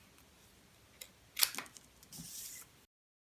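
Paper is trimmed for a birthday card with a few crisp cutting snaps, a sharp close slice followed by a rougher swishing cut, then silence.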